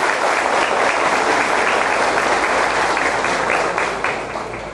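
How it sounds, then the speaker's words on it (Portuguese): A hall full of people at a legislative session claps warmly to welcome a deputy, a loud, dense and sustained burst of applause that eases off slightly at the end. "a calorosa salva de palmas"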